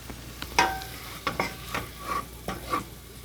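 Garlic and fish frying in a pan while the fish is broken apart, a soft steady sizzle punctuated by several sharp scraping and tapping strokes of a utensil at uneven intervals.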